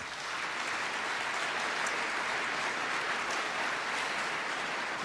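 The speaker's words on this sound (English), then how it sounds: "Let's give them another round of applause." An audience at an annual city awards ceremony claps steadily for five seconds, a dense, even wash of applause heard from a moderate distance without speech.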